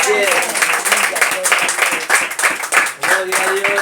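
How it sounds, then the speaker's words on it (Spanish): A church congregation claps in praise, a fairly close, rhythmic burst of applause with overlapping voices calling out through it. "Denle el aplauso al Señor"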